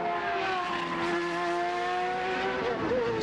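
CART race car accelerating at Mid-Ohio in 1997, a high, strained engine wail climbing steadily in pitch as it pulls away, heard from a distance without talk.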